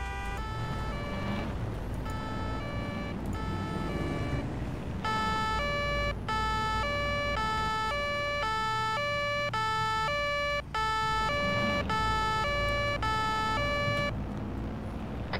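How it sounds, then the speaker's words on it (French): Emergency vehicle sirens wail continuously in a police roleplay game, a steady repeating two-tone pattern that stays loud throughout over a low rumbling background. "Vous entendez pas les sirènes?"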